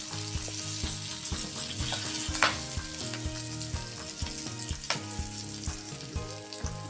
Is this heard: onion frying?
yes